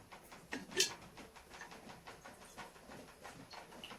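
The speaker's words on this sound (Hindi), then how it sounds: "ये देख अब डाल दूँ तेल।" Cooking oil poured into a hot kadhai for aloo bhujia sizzles and hisses steadily, with a brief louder crackling burst near the start and a soft, continuous fizz after it. No one speaks.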